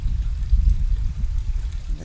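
Water runs steadily outdoors in a continuous low wash, with no voices over it.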